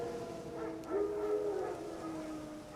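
Wild dogs in The Witcher 3 give a single faint, distant howl that rises and holds for about a second over a quiet game ambience.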